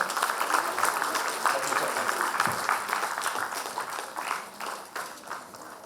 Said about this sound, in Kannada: ತಮ್ಮ ಜೋರ ಚಪ್ಪಾಳೆಗಳು ಶರವಣ ಸರ್ ಅವರಿಗೆ